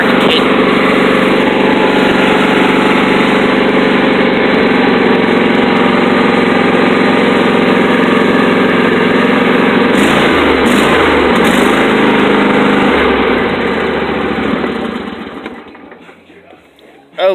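An engine cold-starts and runs with its exhaust pipe removed, producing a loud, steady, raw drone that holds unchanged for about fourteen seconds, with voices briefly audible before the engine cuts off near the end.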